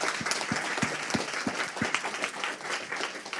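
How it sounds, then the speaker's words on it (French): Applause for patients from the audience at a round table on dental care, a dense wash of clapping with several louder, distinct claps near the front in a steady rhythm. "Je vous demande de les applaudir parce que c'est beaucoup pour eux."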